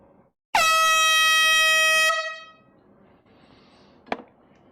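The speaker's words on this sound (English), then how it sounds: "And it's time for the air horn." A single long, loud air horn blast with a bright harmonic tone, holding steady for about a second and a half before cutting off, followed by quiet room noise and a brief knock.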